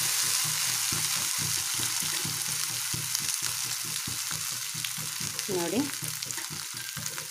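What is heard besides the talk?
raw banana slices frying with asafoetida water and oil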